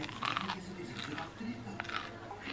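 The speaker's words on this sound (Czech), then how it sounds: "ať slyšíte, jak to křupe" Chicken nuggets crunch as they are bitten and chewed close to the microphone, giving repeated crisp crunches over a couple of seconds.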